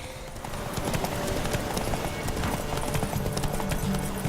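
Horse hooves gallop in The Witcher 3 in a steady, fast clip-clop rhythm that stays loud and close throughout, with a brief whinny-like sound mixed into the busy game audio.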